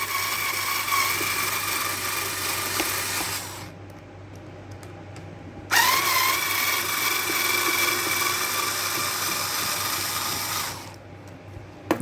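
Electric screwdriver backing screws out of a Robot Coupe hand blender motor housing: two long, steady high-pitched whirring runs separated by a short pause, close and loud, with no talk.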